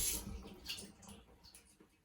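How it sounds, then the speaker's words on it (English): Water from a sink tap running over a small hole during a home steam-engine science activity, a faint splashing trickle with brief bursts, quiet and alone. "Now we're going to run a little bit of water over the hole."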